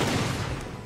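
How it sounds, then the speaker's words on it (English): Rapid rocket launcher shots and blasts in the Halo 5 Extermination multiplayer mode form a dense, loud, continuous barrage of booms. The barrage fades slightly toward the end of the second. "Oh, look at those spammy rocket shots."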